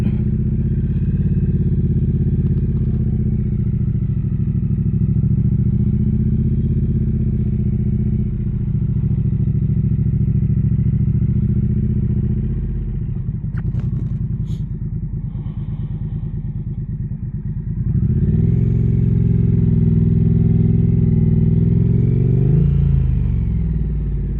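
A Harley-Davidson or Triumph motorcycle engine drones steadily and loudly at close range while riding out of a parking lot, with a brief clatter midway and the engine note rising near the end.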